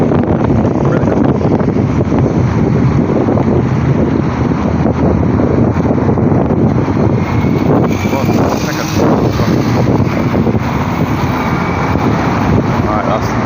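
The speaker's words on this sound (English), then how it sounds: "Feel that wind." Strong wind buffets the microphone outdoors at night on a Saint Petersburg street, a loud, constant roar with a low rumble that does not let up.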